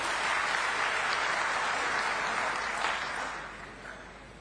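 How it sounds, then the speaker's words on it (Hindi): Loud, sustained clapping from a large crowd at a farmers' gathering in Raipur, greeting a popular local leader; the dense applause holds steady for about three seconds, then fades toward the end. "जोरदार ताली बजाओ"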